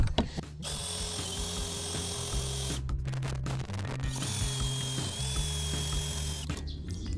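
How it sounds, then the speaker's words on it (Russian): A cordless drill with an 8 mm metal bit whirs in two long bursts with a brief pause between, its motor whining steadily while the bit grinds through metal screws, close by. "Я взял шуруповерт, также сверло по металлу на 8."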